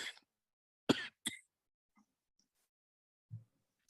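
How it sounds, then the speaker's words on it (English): A single sharp cough from a person, close and fairly loud, followed by a brief throat sound and then near silence with faint low murmurs. "sorry about that, I had to cough."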